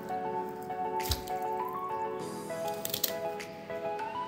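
Small cut pieces of cauliflower dropped into a bowl of salted water in a kitchen, with wet splashes and drips plus a close squishing and handling noise.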